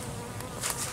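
Honey bees buzz densely inside an open hive with larvae and nectar-backfilled comb, a close, steady swarm drone filling the whole second with brief louder swells.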